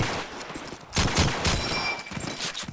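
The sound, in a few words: gunfire in a first-person shooter video game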